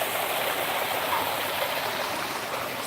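Steady rushing water from a small waterfall in a stream at Nashville Zoo, a continuous close hiss with no talk over it.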